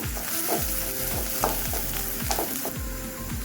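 Onions and green chillies frying in a pan for beetroot poriyal, a steady close sizzle with repeated rhythmic scrapes and knocks of a spoon stirring, no voices.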